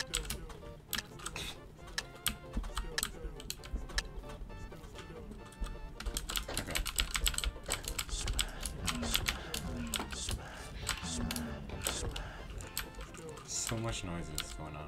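Wooden blocks in a video game fitted with a cursed ASMR texture pack give off dense, rapid clicking and tapping in irregular bursts, layered over a busy game soundscape with steady low-end noise throughout.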